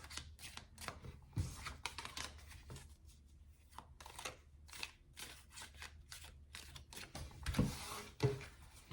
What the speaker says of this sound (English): Just getting a good shuffle.